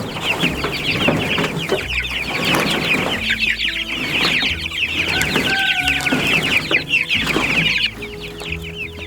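Flock of 25 Cornish Cross broiler chickens on a homestead, clucking and murmuring continuously up close, many overlapping calls with occasional sharper squawks, no talking.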